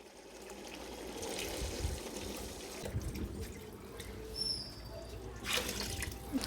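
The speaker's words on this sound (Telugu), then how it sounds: "ఒక గ్లాస్ బియ్యానికి రెండు గ్లాసులు నీళ్ళు పోసుకోవాలి" Water is poured over tomato rice cooking on a wood-fired stove, a steady trickling and splashing that runs on at moderate loudness over a crackling outdoor background.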